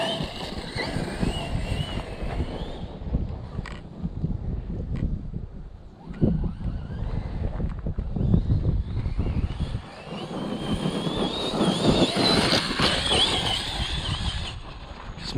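An RC truck is driven hard over rough terrain, with a steady whining motor and broadband rumble that rise and fall as it charges across the ground, and a gust-like wind roar over the whole stretch.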